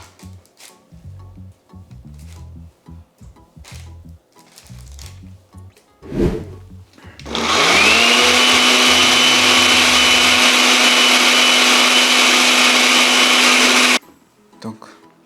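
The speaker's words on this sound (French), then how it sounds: "Je vais mettre dans le mixeur." A blender grinds grilled green chili peppers for an African Cameroonian green chili sauce, starting after some kitchen clatter and then running loud and steady for about six seconds before cutting off abruptly.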